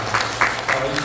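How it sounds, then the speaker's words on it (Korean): A congregation at a dawn church prayer meeting gives several bursts of applause, a fairly close, steady clapping that swells and dips over a low background hum. "우리 감사의 박수 한번 좀 해주셨으면 좋겠습니다."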